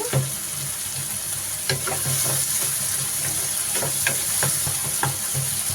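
Fried tomatoes being mashed and stirred in a pan, with a steady background sizzle and a series of short scraping and tapping strokes of a spoon against the pan, close and fairly quiet, no talking.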